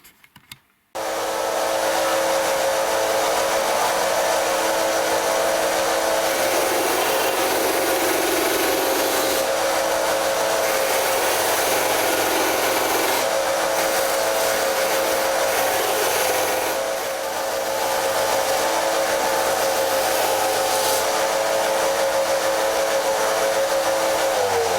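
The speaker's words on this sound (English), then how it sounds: "That was a very rough sanding, right?" A power sander grinds steadily against the wooden headstock of an Epiphone acoustic guitar, a loud close whine with a constant pitched tone that wavers slightly as pressure changes, running nearly unbroken after a brief start.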